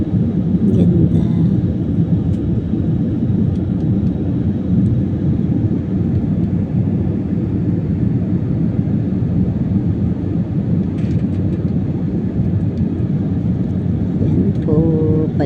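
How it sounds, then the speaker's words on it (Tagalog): Steady low rumble inside an airplane cabin after landing, with constant engine and ventilation drone and faint background voices of passengers throughout. "Po, palabas na po kami ng aeroplano."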